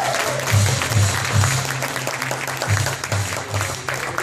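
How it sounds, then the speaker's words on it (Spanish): Audience applause at a product workshop in Colombia: sustained crowd clapping at moderate loudness, with a faint low hum pulsing beneath it. "un aplauso, sí"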